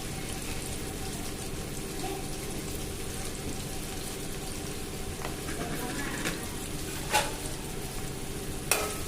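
Thinly sliced onions fry steadily in plenty of oil in a pan for a potato curry, giving a continuous loud sizzle, with a few sharp clinks near the end.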